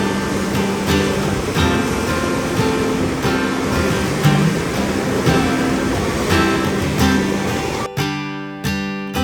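Strong ocean waves at a beach on Guimaras, a steady broadband wash of surf filling the clip at close range, with a brief drop near the end before the rushing resumes.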